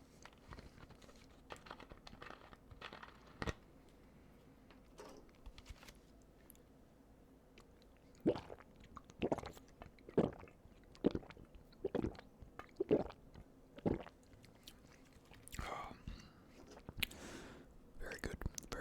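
Walmart cheesecake is chewed softly close to the microphone, with faint sticky mouth sounds and small clicks in scattered bursts over low whispering.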